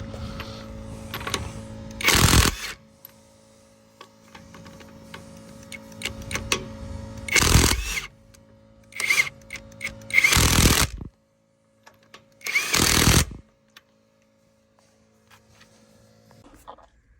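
A Bauer 1/2 inch high torque impact wrench hammering lug nuts, several loud close bursts of rapid rattling impacts separated by pauses, with softer clicks and handling noise between them.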